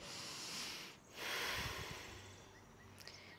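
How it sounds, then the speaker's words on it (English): A deep breath drawn in during a yoga lunge sequence, heard close and soft, one long airy inhale rising after a brief pause, with no talk. "take a breath in"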